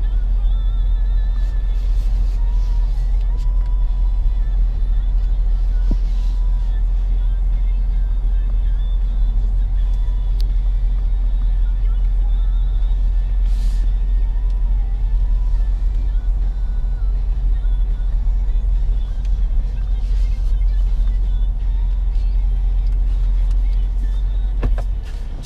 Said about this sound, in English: I am going to back it up here, give us a little bit more room